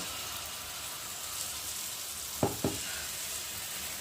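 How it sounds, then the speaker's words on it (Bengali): Small pieces of food fry in very hot oil with a steady, close hiss of sizzling throughout, broken by two quick taps of a utensil near the pan. "চলো আমি এখন এর মধ্যে অল্প অল্প করে দিয়ে একটা করে ভেজে নেব।"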